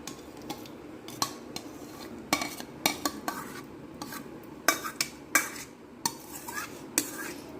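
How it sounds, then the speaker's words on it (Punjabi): A metal spoon scrapes and clinks against a pan and bowl as thick cooked mango-flavoured custard is scooped out, repeated close, crisp knocks and scraping strokes in an uneven rhythm, with no speech. "ਹੁਣ ਅਸੀਂ ਕਸਟਰ ਨੂੰ ਇੱਕ ਬਾਉਲ ਦੇ ਵਿੱਚ ਕੱਢ ਲੈਂਦੇ ਆ"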